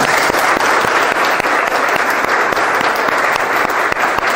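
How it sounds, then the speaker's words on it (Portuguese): A lecture audience applauds the musicians, a dense, loud, steady wash of many hands clapping that fills the whole stretch without a break. "aplaudimos os músicos, aplaudem para eles"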